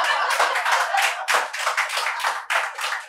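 An audience at a Hindi poetry event claps steadily, a dense, loud patter of many hands that continues without a break for about three seconds, with no voices.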